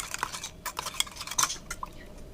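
A spoon scrapes and clinks against a kadai while stirring coconut paste into pudalangai kootu, giving a quick run of soft metallic taps and scrapes, close and fairly quiet.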